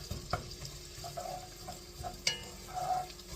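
Onions sautéing in a pan on the way to golden brown, a soft sizzle with a few light scrapes and taps of a spoon stirring, fairly quiet and close, with no talking.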